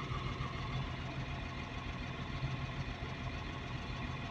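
A Caterpillar 950H wheel loader's diesel engine idles steadily during injector cut-out testing for low power, a continuous low rumble with a faint irregular pulse and no clear change in tone.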